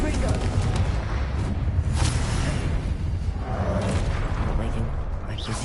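Hogwarts Legacy combat: a Confringo fire spell bursts amid rapid spellcasting, with booming explosive blasts and whooshing magic layered densely and loudly throughout, continuous battle noise without spoken words.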